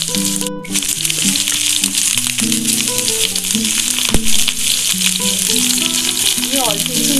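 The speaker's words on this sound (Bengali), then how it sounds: "এরপর আমি ওকে একটু নুন দিয়ে এখানে ভেজে নেব" Capsicum fries with salt in a pan for vegetarian fried rice, giving a loud, constant crackling sizzle with rattling stirs and one sharp knock, over tonal music playing underneath.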